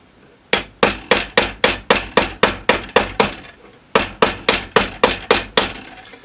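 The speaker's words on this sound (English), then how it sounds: "you may find that you need to hold the ends together as you're hammering it to keep it from opening up." Metal hammer strikes a hollow tapered metal cuff bracelet being shaped over a curve, a steady series of loud, ringing blows, about a dozen, then a short pause before another run of evenly spaced hits.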